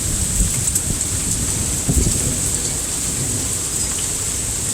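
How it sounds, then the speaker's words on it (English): Heavy thunderstorm with steady, dense rain pouring down and low thunder rumbling underneath, loud and close, with a sustained hiss throughout during a tornado threat. "Oh, there's lightning and thundering."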